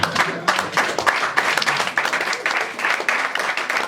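A church congregation at a Sunday service claps and cheers in praise, a dense burst of fast, loud applause with uneven bursts of claps continuing for several seconds.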